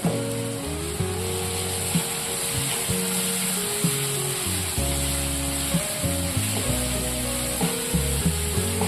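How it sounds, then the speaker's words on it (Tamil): Ginger garlic paste and green chilies sauté in oil for prawn curry, with a loud, continuous sizzle throughout and a few light spoon taps and stirs, and no voices. "இஞ்சி பூண்டு பேஸ்ட் எண்ணெயில வதங்கிட்டு நல்லா மனமும் வந்துருச்சு."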